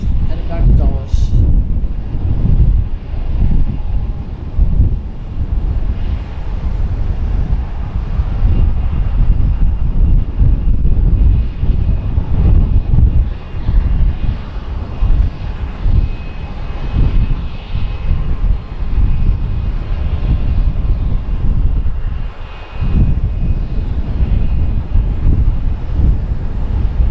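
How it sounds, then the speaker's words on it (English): Jet airliner taking off from runway 13 at Harrisburg airport, heard as a continuous loud roar from a distance, mixed with wind buffeting the microphone, with people talking intermittently over it. "that one's headed out to runway 13. Take off in a couple minutes, heading back to Dulles."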